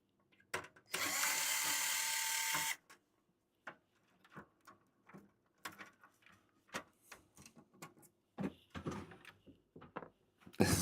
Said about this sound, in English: I just need to undo all these million screws, starting from these two.